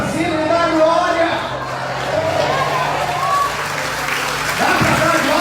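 Church congregation clapping together in steady, dense applause, close and loud, with crowd murmur underneath and a short swell near the end.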